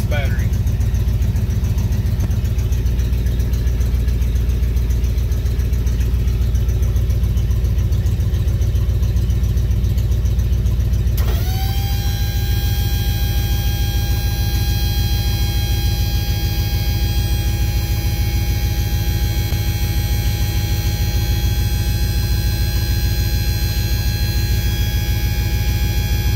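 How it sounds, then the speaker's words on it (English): Full-size Jeep engine running steadily at idle with a constant loud hum, then a hydraulic pump kicks in about halfway and adds a rising whine with strong tonal overtones over the engine drone. "Then we're going to kick the hydraulic pump in"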